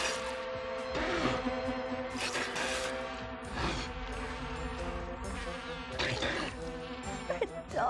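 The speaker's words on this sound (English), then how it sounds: "It's like thousands of giant bees buzzing." A colony of bees in an animated 1987 fantasy film gives off a dense, steady buzz that stays loud and close for the whole stretch, swelling in brief bursts, with no speech over it.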